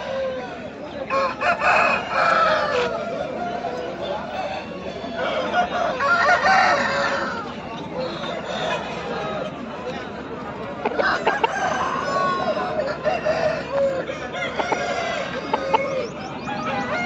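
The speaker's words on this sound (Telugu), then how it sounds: "చూడండి సంత మొత్తం కూడా చాలా కోళ్ళు అనేది వచ్చాయి" Chickens and roosters at a busy pet market crow and cluck loudly and continuously throughout, with people talking and chattering in the background.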